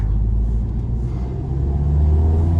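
Engine of a manual VW Golf 7 GTI hums and rumbles steadily while driving, a close, continuous low drone that rises slightly in pitch toward the end as the car pulls.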